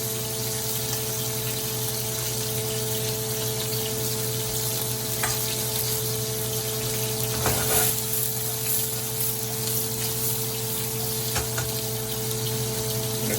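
Mushrooms and garlic fry in butter beside wagyu ribeye steaks, giving a steady, close sizzle with a constant hum underneath and a few brief clatters.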